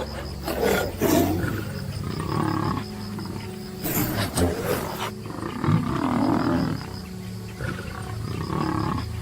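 A lion roars repeatedly across parched African grassland, its deep, rumbling calls coming in several swelling bursts over faint insect noise.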